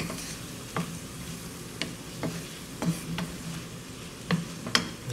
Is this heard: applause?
no